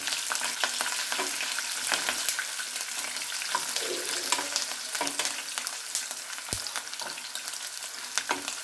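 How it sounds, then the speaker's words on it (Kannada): Peanuts and green chillies fry in hot tempering oil, making a dense, continuous sizzle with sharp crackles and pops, close and fairly loud throughout, with no talking. "ಕಡಲೆ ಬೀಜ ಎಲ್ಲ ಫ್ರೈ ಆಗಿದೆ ಅದಕ್ಕೆ ಮೆಣಸಿನ್ಕಾಯಿ ಹಾಕೊಳ್ಳೋಣ"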